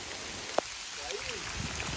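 Rain falls across a valley seen from Ranthambore Fort, a steady soft hiss over the whole stretch, with one brief sharp tick near the start.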